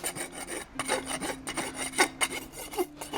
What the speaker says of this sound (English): Just a little bit of cleaning with the rasp.